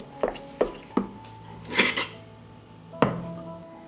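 A wooden spoon dragged across the bottom of a pot of thick kačamak, several short scraping knocks in an uneven rhythm, close and fairly loud, with no talking.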